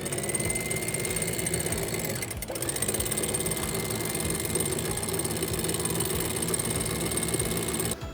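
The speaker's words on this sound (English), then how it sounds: "This is a single-speed winch." A single-speed yacht winch runs steadily, giving a continuous mechanical whirring hum with a fine, fast rhythmic texture, close and fairly loud, with a brief dip partway through and nobody talking.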